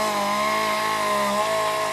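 A chainsaw carving fine feather detail into a wood sculpture in Townsend, Tennessee runs at a loud, close, steady buzz with slight shifts in pitch as the bar bites the wood.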